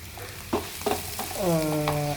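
Onions and chillies fry in a pan for a Kerala-style long bean stir-fry, sizzling steadily under a few sharp scraping stirs, up close, with no one talking.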